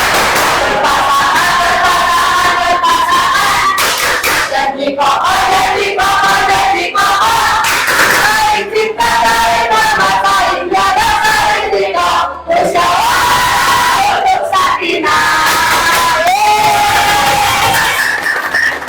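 A group of children chant the Tepuk Sakinah clapping song loudly in unison with rhythmic clapping, a continuous energetic shout-like song filling a classroom.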